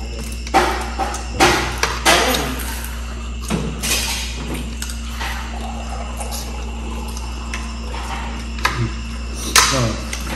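Several sharp hammer knocks land at irregular intervals, cracking a mud crab shell, over a steady low hum and light clatter.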